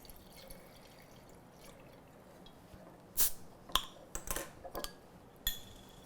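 Lillet and tonic are poured into a glass with ice, heard as faint liquid trickles followed by a few sharp clinks and splashes of ice, close by and quiet, with no speech.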